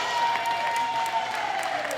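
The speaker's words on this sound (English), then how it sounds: "A big round of applause for Gaston Pelage." Spectators at a world classic powerlifting championship applaud the president of the International Powerlifting Federation, a steady wash of clapping with a faint tone running underneath.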